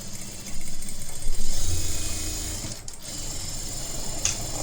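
A sewing machine stitches blouse fabric, its short, steady mechanical whir running close and fairly quiet over a few seconds, with faint background hum.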